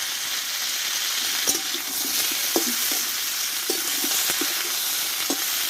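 Tomato and four green chillies fry in a pan of pointed gourd and potato, giving a steady loud sizzle with occasional knocks from a spatula stirring. The sound is close and continuous, and nobody speaks.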